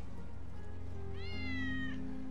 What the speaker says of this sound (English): Hear that? Oh my God, it's a fucking cat.